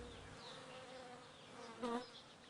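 Bees buzz in a close, continuous drone with slight wavering pitch, one insect swelling louder as it passes near, with no talking.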